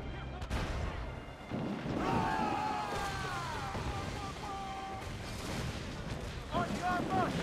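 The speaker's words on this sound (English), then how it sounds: "Mortars!" Mortar fire in Assassin's Creed Freedom Cry: heavy, booming blasts rumble through a dense, noisy game battle, with tonal whistling sounds and voices mixed in.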